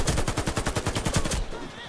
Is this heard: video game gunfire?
yes